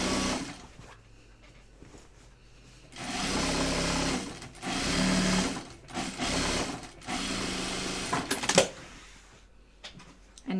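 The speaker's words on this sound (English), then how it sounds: "I'll just sew it down for now." Sewing machine stitching a fabric bag prototype, rapid mechanical whirring in several bursts separated by brief pauses and handling clicks, close and clear with no talk.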